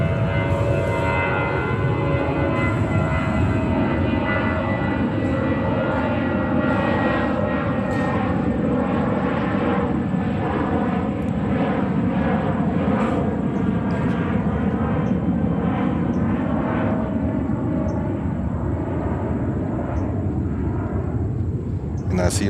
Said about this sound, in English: what you hear right now is another JetBlue 320